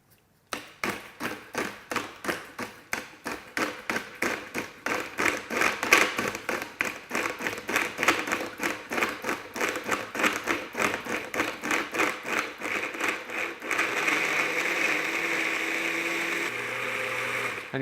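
A blender pulses frozen strawberry sorbet in a rapid run of short bursts, about three per second, loud and close, then settles into one steady whir near the end.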